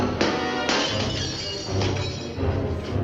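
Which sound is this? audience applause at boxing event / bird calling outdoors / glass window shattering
glass window shattering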